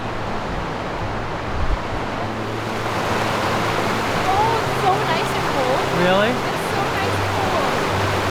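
River water in the Grand Canyon rushes in a steady, broadband roar throughout, close and constant, while people talk briefly over it.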